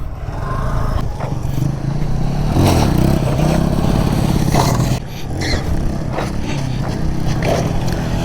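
Motorcycle engine, apparently a KTM, revving hard as the rider lifts into a wheelie during a live riding lesson, a loud steady roar with rises in pitch and a brief dip midway, recorded close with wind noise.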